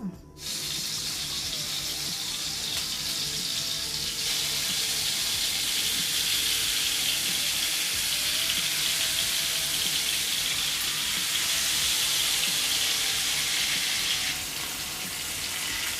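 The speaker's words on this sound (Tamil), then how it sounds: "இப்போ நம்ம மீனை ஃப்ரை பண்ண ஆரம்பிச்சிடலாம்." Fish sizzling as it fries in coconut oil in a pan, a steady loud hiss and crackle lasting throughout with no pauses and no voices.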